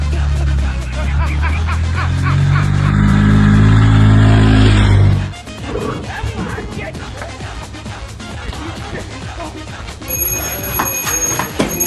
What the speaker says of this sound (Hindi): गाड़ी चालू कर तो काका।